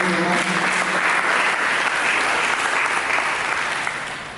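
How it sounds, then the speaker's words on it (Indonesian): A church congregation breaks into sustained applause during a sermon, dense steady clapping that fills the room and fades slightly at the end, with a voice briefly heard at the start. "Berikan tepuk tangan dulu."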